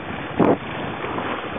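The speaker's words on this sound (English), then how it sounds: "Just the wind has come up quite a bit." Strong wind at sea aboard a small sailboat during the WaterTribe Ultimate Challenge off Florida, with big waves building: a steady broadband roar of wind and water noise, with one brief louder gust or splash early on.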